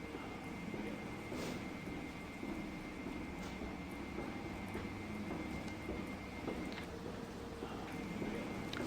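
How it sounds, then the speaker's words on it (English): Boarding passengers' footsteps in the Aerosoft A330 flight simulator come through as faint, irregular clopping steps under a constant loud cabin and engine hum. "Passengers still getting on, I can hear them. Clopping along."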